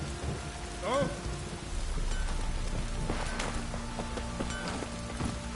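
Steady drizzling rain patters across a game world in Witcher 3 under soft ambient tones, with a brief exclamation near the start and a low rumble of distant thunder.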